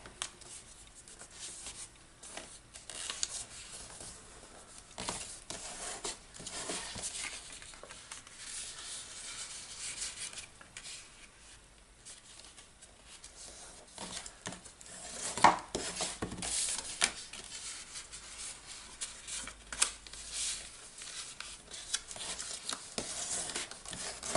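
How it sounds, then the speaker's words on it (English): Paper is folded and burnished along scored lines for a Jerusalem star ornament, giving faint, close rubbing and scraping strokes in irregular bursts with occasional light taps. "you're going to fold and burnish on all of those lines we just made"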